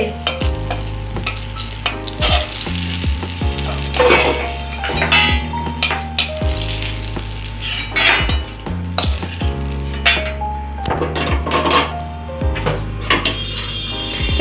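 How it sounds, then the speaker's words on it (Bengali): Lentil dumplings (bori) frying in hot oil in a home kitchen, a steady close sizzle broken by repeated clatter and scraping of a utensil stirring the pan, with occasional metallic knocks. "বড়ি ভাজছে"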